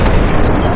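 A grenade blast in the video game Fallout: New Vegas, a single loud, close, booming explosion with a dense rumbling burst that fills the brief moment.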